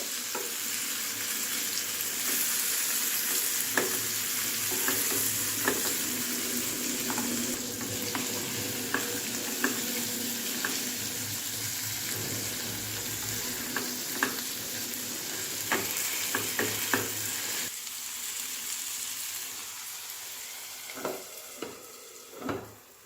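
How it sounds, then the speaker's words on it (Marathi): Stuffed bitter gourd fries in a pan and is stirred now and then. A continuous loud sizzle runs throughout, broken by scattered scraping clinks of the spatula against the pan. "आपण अधूनमधून कारले वर खाली किंवा हलवून घ्यायचे म्हणजे ते करपणार नाहीत"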